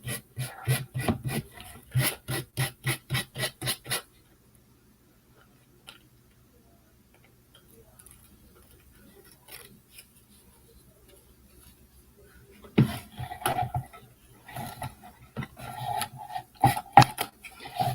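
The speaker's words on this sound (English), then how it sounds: "I'm just going to continue sanding around the edges." Rapid, rhythmic rasping strokes of sanding up close, then a long quiet stretch before irregular scraping and rubbing sounds return.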